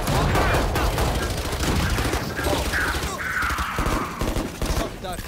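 Heavy, rapid gunfire in a shooting video game fills the whole moment, dense overlapping shots and impacts with a few brief tonal game effects mixed in.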